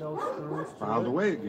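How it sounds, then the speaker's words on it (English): Several dogs barking back and forth in a neighbourhood squabble, sharp yips and whiny barks close by, with a voice talking over them. "My dogs and the neighbor's dog are having a war as per usual."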